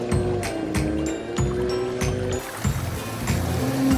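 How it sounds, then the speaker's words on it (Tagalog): Babbling water from a clear stream, a steady rushing wash with rhythmic thumping pulses over it and no talk. "Ang linaw ng tubig at ang sarap pakinggan ng lagaslas!"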